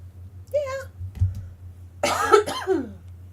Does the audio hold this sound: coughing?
yes